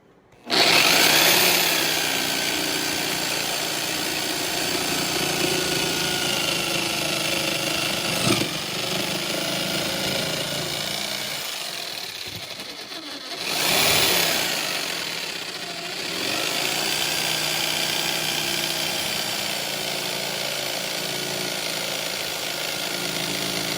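Power tool drives screws into wood while building a bench for a Crest Craft kayak: a long continuous whirring grind, close and steady, with a short break and a burst of louder rubbing partway through.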